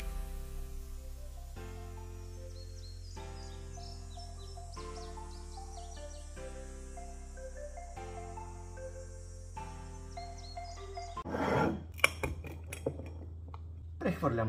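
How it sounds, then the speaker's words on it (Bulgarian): A glass jar is filled with homemade sugar-free vegan keto Nutella and its lid is closed, giving a short burst of clinks and scraping clatter near the end after steady music. "Прехвърлям нутелата в един буркан."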